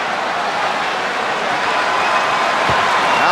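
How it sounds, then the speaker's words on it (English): A basketball arena crowd at the 1994 NBA Finals, Rockets at Knicks in Madison Square Garden, keeps up a steady, loud roar of cheering and clapping to urge on a free throw shooter. "Now the crowd trying to encourage Charles Smith."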